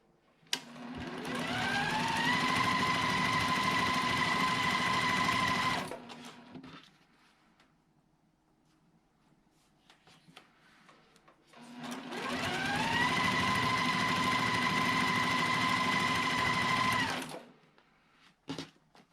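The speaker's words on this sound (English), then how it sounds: "now I'm going to stitch on that line and hopefully do a better job this time." A sewing machine stitches a quilt block along a marked line in two steady, continuous runs of about five seconds each, separated by a quiet pause. The whirring motor is close and fairly loud, with no talking.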